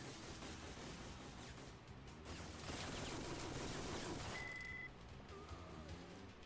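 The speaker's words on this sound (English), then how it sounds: "watch me hit the fucking G18 right here" Rapid automatic fire from a G18 pistol in the video game Syphon Filter, a dense continuous burst of gunshots mixed with game sounds, with a voice talking over it.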